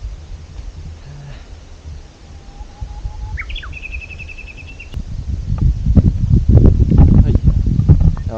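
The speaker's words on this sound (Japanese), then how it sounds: "案外風あるんですけど" Wind gusting across a 634 m mountain summit at sunset, a steady rushing roar that swells louder toward the end, with faint bird chirps early on.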